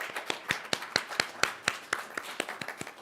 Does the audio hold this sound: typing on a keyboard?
no